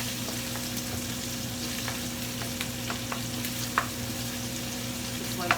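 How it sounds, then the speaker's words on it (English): Chicken and vegetables sauté in olive oil in a pan, giving a steady, even sizzle with a low background hum and a few faint clicks of stirring scattered throughout. "So we're going to saute all of that nicely."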